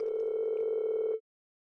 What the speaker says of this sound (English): Why are they ringing the bell this late?